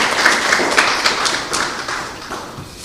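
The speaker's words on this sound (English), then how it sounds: "I will also ask that you do a round of applause for the parents and supporters of these young people." Audience clapping at a secondary school scholarship award ceremony, a moderate scattering of individual claps that gradually thins out toward the end.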